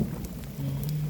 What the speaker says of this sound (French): Il pleut beaucoup trop là.